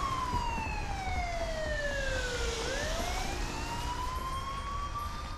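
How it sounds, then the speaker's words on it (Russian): An ambulance siren wails at some distance outdoors, its tone sweeping slowly down and then back up in one long cycle, steady and moderately faint with no speech. "Валерия Николаевна, уровень сигнала сирены скорой помощи максимально совпадает с записанным в пиццерии вот в этой точке."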